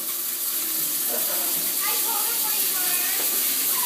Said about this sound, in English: Let's go turn on the water.